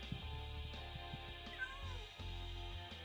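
A cat meows repeatedly in the video game Minecraft, several short, clear calls over a low steady game background, with faint human sounds nearby.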